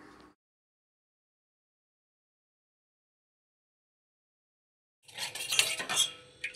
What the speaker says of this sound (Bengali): এবারে ক্রমাগত নাড়তে নাড়তে দুধটা আমরা ঘন করে নেব